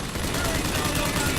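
Rapid bursts of gunfire from a motorized patriot robot in BioShock Infinite, a dense, continuous rattle filling the short moment at steady loudness.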